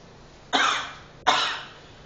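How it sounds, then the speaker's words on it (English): Two sharp, loud coughs from one person, close by, about three-quarters of a second apart, each trailing off quickly. "keep coughing. Keep coughing."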